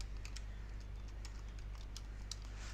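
Arrow keys are tapped on a computer keyboard while editing HTML code: faint, scattered soft clicks over a low steady hum, with no speech.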